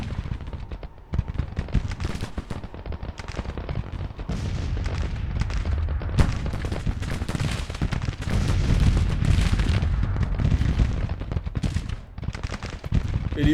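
Artillery and gunfire in the Grand Tactician Civil War strategy game: dense, continuous volleys of musketry and booming cannon roll without pause, loud and layered throughout.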